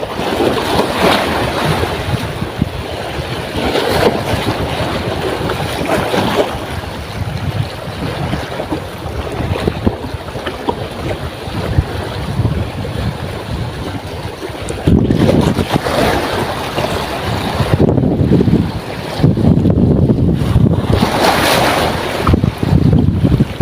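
Strong wind roars across the sea around a fishing boat off Palawan, with waves washing and slapping in a loud, constant rush that surges in heavier gusts, with no talk.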